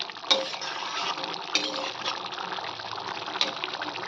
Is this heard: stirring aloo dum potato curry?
yes